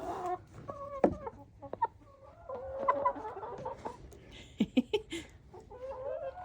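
Chickens cluck and chatter close by on a farm where animal feed is mixed, with a run of sharp, bursting clucks near the end and no talking.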